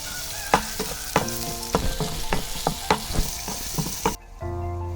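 Onions and dried red chillies frying and being stirred in a pan: a steady close sizzle broken by repeated scraping clicks of a spoon, then a sudden quieter hum as the stirring stops, with no talking.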